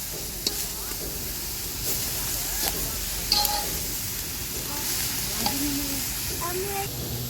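Leafy greens being fried and stirred in a pan over a wood-fired stove on a rooftop, with a steady close sizzle and repeated scraping and clinking of the stirring utensil.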